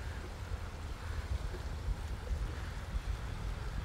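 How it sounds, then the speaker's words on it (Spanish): A boat moves out at sea, with a steady low rumble of engine and water under wind noise and wash, constant and fairly distant, with no voices. "Tiene pinta de ser un barco de esos chungos."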